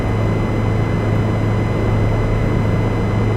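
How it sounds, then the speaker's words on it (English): A constant, heavy engine drone with a low steady hum inside a Bell 207 helicopter cabin in flight, unbroken and loud from start to finish. "It's a very nice helicopter."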